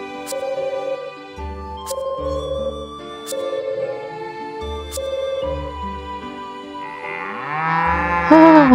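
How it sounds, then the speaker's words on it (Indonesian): A cow from Story of Seasons Pioneers of Olive Town lows repeatedly over playful game music with sharp percussive hits, ending in a louder close moo. "Sapi yang ngamuk"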